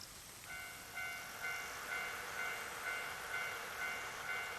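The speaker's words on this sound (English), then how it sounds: "And there it is, the sound of the railway crossing." A railway crossing signal rings in steady repeating tones, moderately distant and alone, with a faint train rumble underneath.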